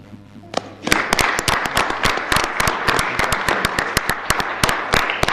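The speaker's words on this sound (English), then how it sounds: "He's clapping." Enthusiastic clapping by one person at a city council meeting, a rapid sharp series of claps that carries on steadily and close by.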